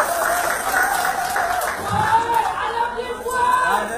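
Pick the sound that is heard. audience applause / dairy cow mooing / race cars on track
audience applause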